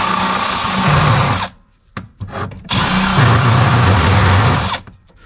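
An Astro double-cut round carbide rotary burr grinds metal while a trailing arm is opened up for an e-brake cable, giving two loud, steady high-pitched grinding bursts of about 1.5 and 2 seconds with short rough touches in between.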